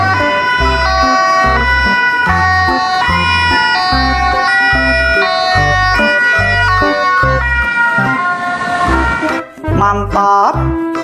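A toy ambulance plays a loud electronic siren, a bright repeating tonal wail over a pulsing rhythm that runs continuously and close with no voices.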